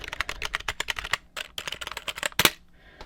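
Rapid typing on a membrane computer keyboard said to have a mechanical feel, a close, busy run of crisp key clicks with a short pause midway and a sharper clack near the end.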